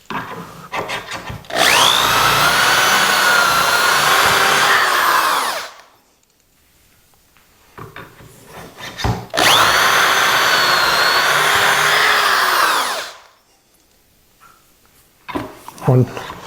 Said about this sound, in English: Now we're going to drill 6.